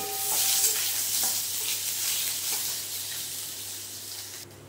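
Boiled taro pieces sizzle and hiss in hot oil as they are stir-fried in a pan, a steady close frying crackle with light stirring scrapes that fades slightly toward the end.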